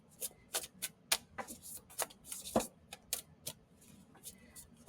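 Quick papery riffles and flicks of tarot cards being shuffled, irregular bursts of crisp snapping close by, with faint background noise between them.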